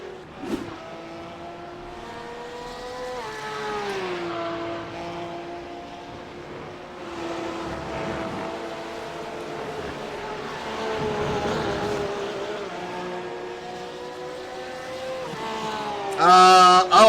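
GT3 race cars at Road Atlanta roar downhill toward the start-finish line, with steady engine drones shifting pitch as they pass, loud and sustained, joined by a brief high burst near the end.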